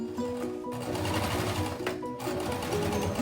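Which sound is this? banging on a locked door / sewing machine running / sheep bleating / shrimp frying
sewing machine running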